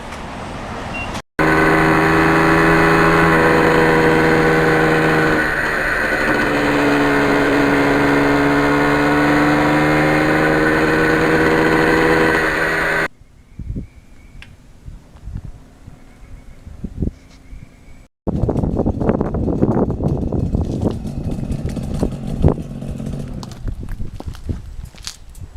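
RZ350 and RD400 two-stroke motorcycles ride past. A loud, steady engine note holds for several seconds, then cuts to quiet, then returns as rougher, buzzing revving.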